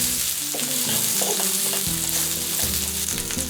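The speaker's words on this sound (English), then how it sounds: "Put the onion, stir for 10 seconds." Chopped onion hits a hot wok already holding garlic and grated ginger, sizzling and frying steadily and loudly throughout, with a spatula stirring and scraping the pan at close range; no voices.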